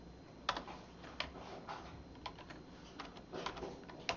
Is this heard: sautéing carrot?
no